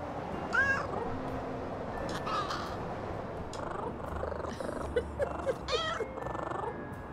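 A cat meows several times over a soft game ambience in the video game Little Kitty Big City, with a crow cawing nearby; the calls are short, fairly clear and spaced out.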